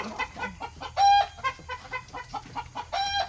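Chickens cluck and call inside a coop during a chase to catch them, a dense, near, busy flock sound with short bursts of sharper squawks scattered throughout.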